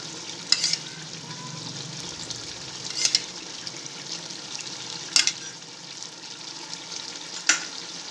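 Chicken frying in a pan as spoonfuls of yogurt go in, for a biryani: a steady low sizzle with a few sharp scraping stir clicks spaced out, no talking.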